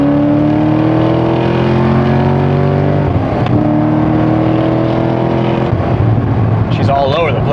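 Corvette Z06 race car engine roaring steadily at high revs on a track, a loud sustained drone with a brief dip around the middle and shifting pitch near the end.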